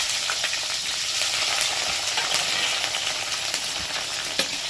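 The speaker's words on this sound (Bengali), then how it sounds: "এটা একটু হালকা করে ভেজে নেব টমেটোটা একটু নাড়াচাড়া করে" A whole tomato and slit green chillies fry in hot oil in a pan, giving a steady, close sizzle with light crackles and occasional stirring scrapes, no voices.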